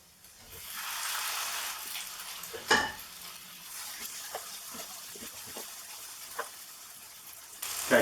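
Gnocchi sizzle gently in about two tablespoons of olive oil in a pan, a soft, steady hiss punctuated by a few sharp clatters and scrapes as they are moved, fairly quiet and close.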